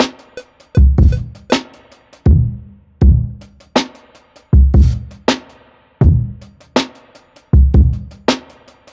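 A programmed beat plays back through the Soulfi Beatmaker, a loud looping pattern of punchy kicks, snare-like hits and sharp percussive transients repeating in a steady groove over roughly two-bar cycles, with no talking.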